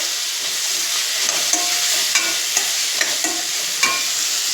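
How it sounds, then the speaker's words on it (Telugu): Onions browning in oil for vankaya dum biryani make a loud, steady hiss, close up, with a few faint scrapes of stirring scattered through it and no voices. "ఇవి ఆనియన్స్ బ్రౌన్ వచ్చాయి కదండి ఆయిల్లో"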